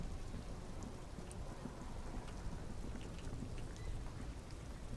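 Steady rain in the video game Disco Elysium pours down with soft patter and a low rumbling undertone, continuous and moderately quiet, with no voices.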